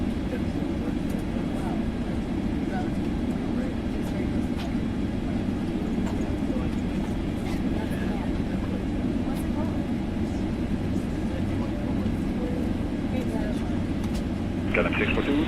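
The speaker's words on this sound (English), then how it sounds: "Get the APU winding up in the background." The auxiliary power unit of an Airbus A320neo winds up, a dense continuous rumbling drone with a steady whine, heard throughout with cabin or cockpit ambience and a brief rising tone near the end.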